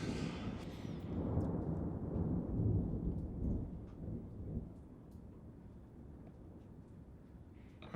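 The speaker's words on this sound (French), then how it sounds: "je vais avoir des basses qui tuent dans mon tonnerre" A thunder sound effect with heavy low-frequency bass in a surround mix gives a loud rumbling roll that swells, then slowly decays into a quieter tail with faint crackles.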